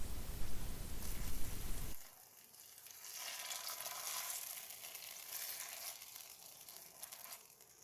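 Cooked macaroni being gently folded into a cherry tomato and oil sauce, a loud broadband sizzle for the first two seconds dropping to a softer, steady hiss and wet stirring for the rest, with no voices.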